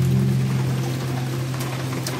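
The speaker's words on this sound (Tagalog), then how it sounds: "Ang lakas ng ulan." Heavy rain falls in a steady, even wash, with a low continuous hum running underneath and a few faint splashes standing out near the end.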